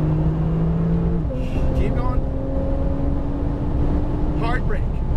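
A Porsche 911 Turbo engine accelerates while driving, giving a steady, tonal drone that shifts pitch early on. It holds close and loud throughout, with brief higher chirps on top.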